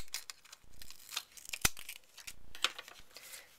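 Scissors cut small Velcro dots in half, making quiet, crisp snips with crinkling between them, a few distinct cuts spread across several seconds.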